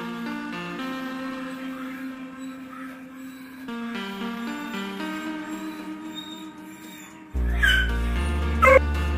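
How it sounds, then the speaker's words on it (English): A dog whimpers and yips in a drawn-out, whining series, then lets out louder, sharper barks near the end, close to the listener with no talk over it. "All you do is bark when you don't get your attention."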